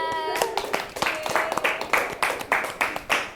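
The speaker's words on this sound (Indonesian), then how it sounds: "Oke, tepuk tangan semuanya." A group claps in a loose rhythm, sharp hand claps repeating every fraction of a second, with a voice speaking at the start.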